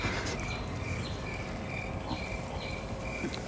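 Crickets in their ground burrows in a rural fishing village in Vietnam's western region chirp in short, evenly spaced trills, faint but clear above a low, steady background hiss.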